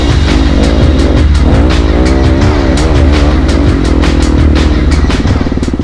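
Dirt bike engine running loud and close, a raw buzzing motor note that revs up and down steadily with a throbbing low rumble and no pauses throughout.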